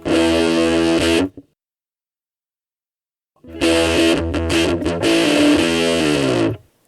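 A Boss MG-10 guitar amplifier on its warp distortion setting plays a buzzy, heavily saturated, almost square-wave guitar tone, a short burst that cuts to silence before a longer sustained passage of loud fuzzy chords.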